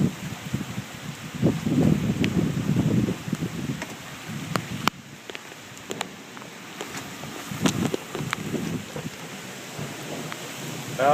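Heavy rain pours steadily during a tornado storm in Southern Maryland, with rumbling thunder and a few sharp cracks and drips close by.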